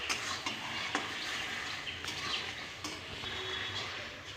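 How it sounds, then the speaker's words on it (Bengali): Taro leaves (kochu shak) sweetened with sugar are stir-fried in a pan, giving a steady close sizzle with scraping stirs and occasional clanks of the spatula throughout. "আরও কিছুক্ষণ ভাজা ভাজা করে কষিয়ে নেব।"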